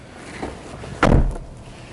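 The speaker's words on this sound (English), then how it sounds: "the doors close really nicely. I love that thud." A single solid thud of an Audi A4 2.0T car door shutting, deep and close, after a faint earlier knock, with quiet background in between.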